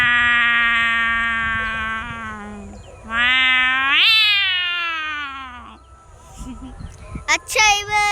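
A human voice imitates an angry cat with long, strained yowls, rising and wavering in pitch, followed by shorter sharp cries, all close and loud.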